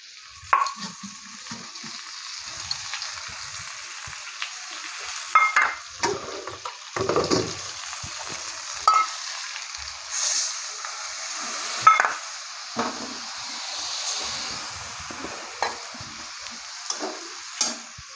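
Spiced masala of cumin, turmeric, ground mustard and ginger paste sizzles steadily in a pan for a cauliflower, potato and tomato curry, with repeated scraping stirs and spoon clinks over the constant fry.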